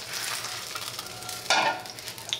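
A Vietnamese bánh xèo pancake frying crispy and golden in a pan: a steady close hiss and crackle of hot oil, with a brief louder sizzling burst midway and no talk.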